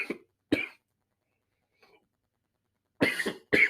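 Coughing after vaping weed, several short dry coughs and a throat-clearing burst, spaced in uneven clusters with silent gaps, close and moderately loud with no talk.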